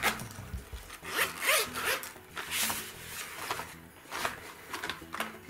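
Fabric pencil case being unzipped, a scratchy zipper run repeated in several short pulls and rustles, close and moderately loud with no talking.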